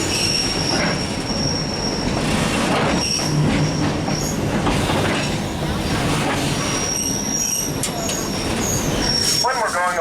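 A slow freight train at about ten miles an hour rolling along the rails, with a continuous loud rumble, high wheel squeal and faint clacking, heard up close from on board.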